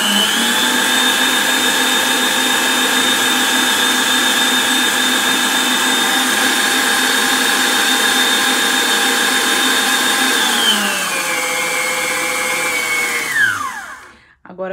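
An electric mixer beating creamy chocolate runs at a steady, loud high-pitched whine, then winds down in pitch toward the end and cuts off, with no voices.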